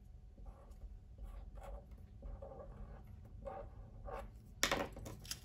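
A pen scratches across paper in a quiet room as the word dives is written, several short soft strokes separated by brief pauses, ending in a louder rustle of the paper.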